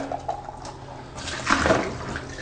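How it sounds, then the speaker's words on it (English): Hot tap water rinsing out a baby bottle at a kitchen sink: a soft trickle at first, then a louder splashing gush of water swirling in the bottle for about a second. "you bring it to the sink and you dump it out and you rinse it with some hot water"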